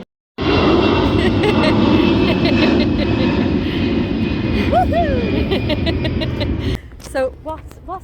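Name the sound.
airplane taking off overhead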